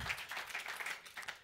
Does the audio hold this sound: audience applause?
yes